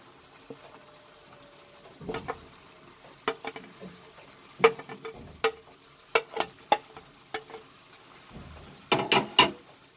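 A spoon stirs fried cauliflower florets and partly cooked potatoes in a sizzling pan, giving scattered sharp scrapes and clinks over a low frying hiss.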